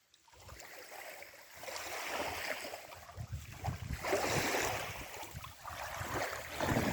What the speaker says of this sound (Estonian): Ja algab paatide veeskamine ja esimene paat lähebki